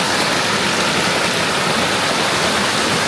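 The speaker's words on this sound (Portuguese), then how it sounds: "A cascata, claro, é bonita, mas é interessante também os corredeiros" A steady, loud rush of water from a cascade and rapids on a small stream in the countryside of Farroupilha, Brazil, fills the whole stretch as continuous close broadband roar with no voices.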